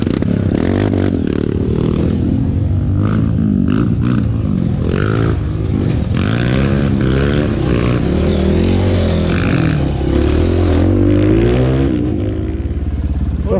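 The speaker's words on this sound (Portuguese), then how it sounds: "Tá acelerando muito, não precisa melhorar a moto não, tá bom pra caralho." A motorcycle engine revving hard with a steady, loud roar and rising and falling throttle tones, close by, with some scraping and clatter mixed in.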